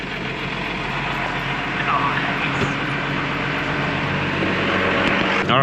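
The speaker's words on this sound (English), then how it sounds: "Why does it sound like it's idling really high?" Engine of an old forestry truck idling high inside the cab, a steady loud drone that holds throughout with no gaps or changes in pace.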